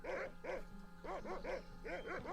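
A dog barks in the Monkey Island 2 video game, a run of clear, close woofs in quick groups of two and three with short gaps between, alone without talk.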